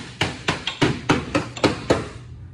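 A hammer strikes the dented fender of a Honda EF wagon seven times in an even rhythm, each blow sharp, loud and close, with brief ringing between hits.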